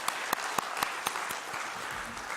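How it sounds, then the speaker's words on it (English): An audience at a national power engineering workshop at NIT Warangal applauds, a steady wash of clapping with a few sharper claps standing out, fairly faint throughout. "Please give a big applause to him."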